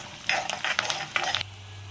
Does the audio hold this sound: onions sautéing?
yes